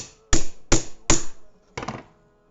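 Four hard, close strikes on a repaired CRKT folding knife during a bash test, evenly spaced sharp impacts that each ring briefly, the last one followed by a quick rattle, with no talking.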